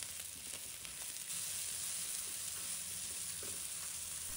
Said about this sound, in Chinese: 也把香菇炒香